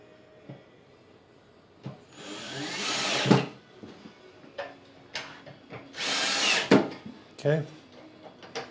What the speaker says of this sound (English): then come with your drill or Phillips screwdriver